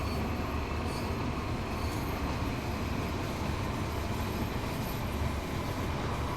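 A simulated train in Train Sim World 5 runs toward Morecambe Station, giving a steady, dense rumble of wheels and carriage noise that holds an even level throughout, with no voices.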